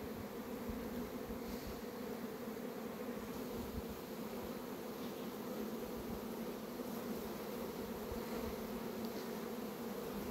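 Honey bees swarm around their hives in a dense, steady drone that stays constant and close throughout, with no voices.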